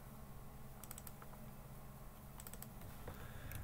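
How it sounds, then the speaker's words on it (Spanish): Keyboard keys and mouse buttons click on a computer while formatting words in Microsoft Word, with a few sharp clustered clicks, including double-clicks, standing out over a steady low background hum. "presiono la tecla Control y le doy doble clic sobre cada una de ellas"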